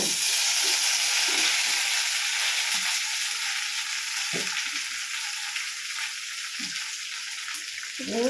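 Steady sizzling of okra frying in a hot pan, with occasional soft clinks of a utensil stirring, close up and continuous.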